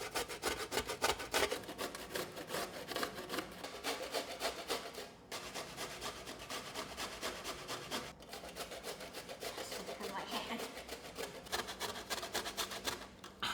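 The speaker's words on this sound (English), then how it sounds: "you have to start grating the potatoes until there's no more" Potatoes grated by hand against a grater, a continuous rasping scrape with steady back-and-forth strokes, close and fairly loud, briefly pausing twice.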